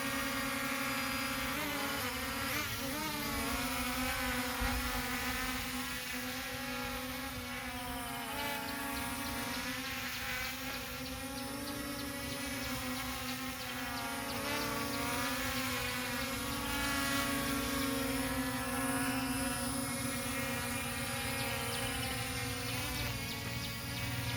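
A ZLL SG901 Pro Max FPV drone throttling up in flight, its propellers giving a steady loud high-pitched buzzing whine with shifting tones as the motors accelerate, close and continuous throughout.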